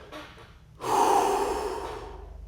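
A single deep, forceful breath drawn in and slowly let out, close and fairly loud, with no talking.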